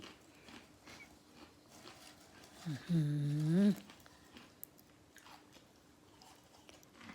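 Crunchy biting and chewing of food close to the mic, with a loud burst of chomping midway and quieter mouth sounds around it in a quiet rural home.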